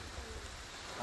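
Rain falling on a beach during outdoor cooking, a brief dense steady hiss of drops with no other distinct sounds.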